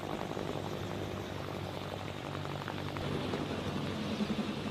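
Military attack helicopter with a composite main rotor, flying steadily with a constant droning engine and rotor noise throughout, slightly louder toward the end, with no talking.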